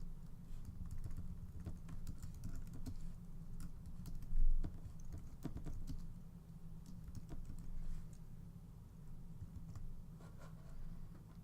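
Soft, quick computer keyboard typing of a commit message, a rapid uneven patter of key taps, faint and close over a low background hum.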